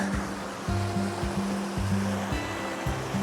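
Water flows under a bridge in the Peak District, a steady close rushing wash with a low, faintly humming undertone that pulses irregularly throughout.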